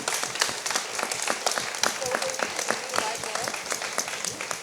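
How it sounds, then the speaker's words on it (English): Audience applause at an arts and culture mini marathon in Palazzo Diedo, a steady dense clapping from a moderate crowd with a voice faintly mixed in. "Big round of applause for Terra Zero."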